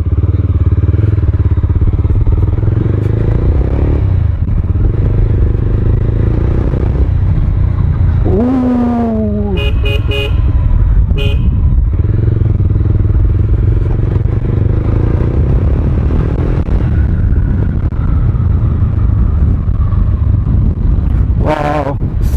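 An adventure cruiser motorcycle rides along with a loud, steady engine roar and wind rush throughout, with a brief rise in pitch partway through and some clatter and thumps from the road.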